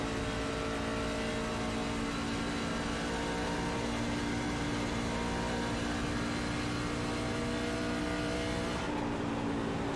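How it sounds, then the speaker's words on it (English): A race truck engine at Kansas Speedway, a loud continuous drone with steady harmonics that holds its pitch with slight throttle changes before a brief dip near the end. "Listen to his throttle inputs"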